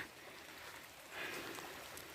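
Heavy rain falls steadily on a rural home, a dense even hiss that swells briefly midway, with no voices.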